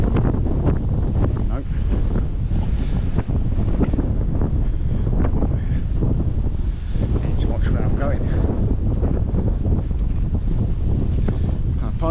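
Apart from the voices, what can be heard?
wind blowing on the camera microphone by a river bank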